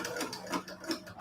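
A sewing machine runs while stitching a junk journal, giving a steady, rhythmic chatter of needle strokes that pulses at an even pace, close and alone with no talking.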